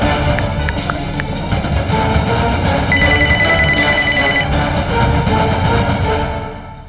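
A telephone rings loudly and steadily while a call is being placed, its bell tone repeating for several seconds with no talk over it.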